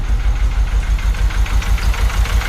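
A Honda motorcycle engine running close and loud, its idle rough and uneven with a lumpy, knocking pulse that hints at a misfire.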